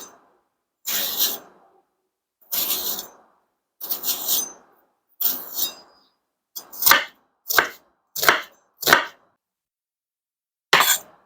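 Knife chopping an onion on a cutting board for Indian dal, in short bursts of quick cuts separated by pauses, then a run of single sharp, close chops.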